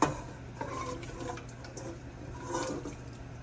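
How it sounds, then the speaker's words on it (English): Potatoes drop into a pot of cold water in a home kitchen, giving a brief splash and sloshing with light knocks against the pot, fairly close and continuous for a few seconds. "This is cold water. I'm going to put the potatoes in."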